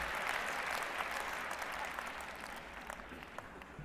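An audience claps at a spoken-word poetry performance, a fairly distant and steady patter of many hands that thins slightly toward the end.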